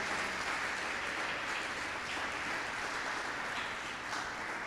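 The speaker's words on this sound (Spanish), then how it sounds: "Dese un aplauso." Steady, dense applause from a church congregation at a Sunday morning service, a continuous wash of many hands clapping at a moderate distance for the full length, with no voices rising above it.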